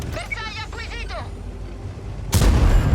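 Someone talks briefly, then a sudden loud blast of tank gunfire in a World of Tanks-style game, from a Standard B tank, cuts in with a heavy, booming rumble close up.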